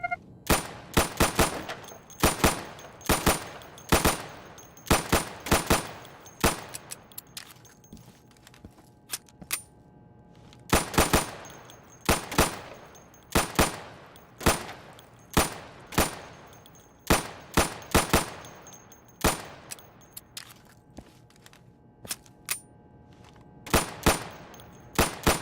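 Rapid gunfire at targets in a firing booth in the video game Insurgency, sharp repeated shots in bursts and single cracks throughout, loud and close with short pauses between volleys.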